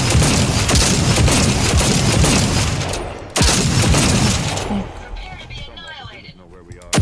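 Dense rapid gunfire and explosions in the video game Fallout 4, loud continuous bursts with a sharp crack midway, then fading to quieter game sounds near the end.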